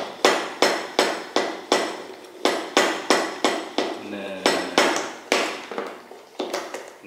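Milk shaken hard in a manual frother jar to foam it for cappuccino, giving a loud, regular run of sharp knocks and sloshes, about two per second, close and without talk.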